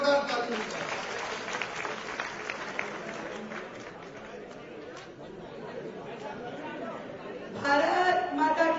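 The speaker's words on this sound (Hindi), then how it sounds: "श्रीमती रेखा गुप्ता जी एक बार जोरदार ताली बजाएं" A political meeting crowd at a club hall claps for a speaker, moderately loud and slightly distant, mixed with chatter and voices, and swelling again near the end.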